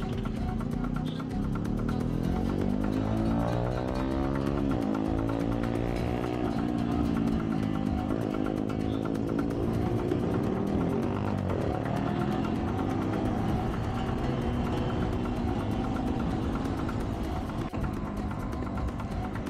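A motorcycle revving and accelerating hard through a wheelie during a group riders' meet-up near Madegari dam, its engine note rising and falling continuously and loudly for the whole stretch, with other engines around and no talk.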